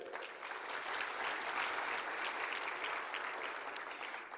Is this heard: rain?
no